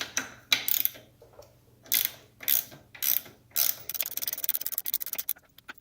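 A ratchet wrench works 19 mm starter bolts loose during a car engine repair, giving short rapid clicking runs separated by pauses, then a faster continuous string of clicks near the end.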